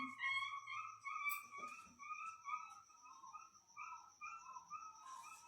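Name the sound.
puppy whimpering and crying after being hit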